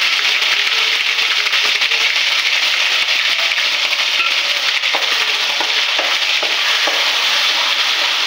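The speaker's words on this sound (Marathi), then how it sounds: "आता आपण याच्यामध्ये टाकूया अद्रक लसूणची पेस्ट." Ginger garlic paste dropped into hot oil, frying with a steady broadband hiss and sizzle, with a few faint clicks of stirring through the middle, close and loud with no talking.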